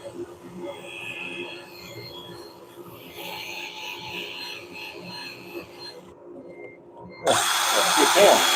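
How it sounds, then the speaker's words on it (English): End grain of a wooden bowl being sanded on a spinning woodturning lathe: a continuous close whirring drone with abrasive rubbing, growing louder and brighter near the end, while a person talks over it. "I want to make sure I get all that end grain really nicely sanded up."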